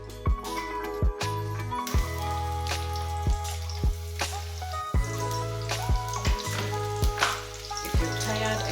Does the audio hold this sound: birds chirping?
no